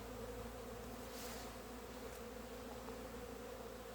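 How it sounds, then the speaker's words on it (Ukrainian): Honeybees hum steadily around a hive on a cold spring day, a faint, continuous drone with no voices. "от крутиться бджола, навіть нікуди не літає"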